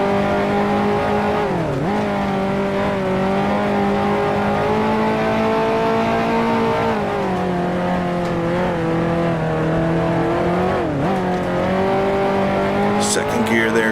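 A 1955 Formula One race car engine at the German Grand Prix in Grand Prix Legends drones loudly and steadily, its pitch sweeping down and back up through several gear shifts.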